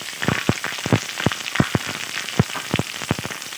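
Chopped garlic, slit green chilies and onion petals crackle and sizzle in hot oil, a steady frying hiss broken by rapid, irregular popping bursts at close range.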